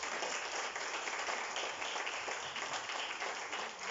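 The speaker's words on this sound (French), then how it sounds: "On peut-tu les applaudir, s'il vous plaît?" An audience applauds a team at a corporate event in Mauritius, producing a continuous, even wash of many hands clapping at moderate volume, with no distinct voices and no breaks throughout.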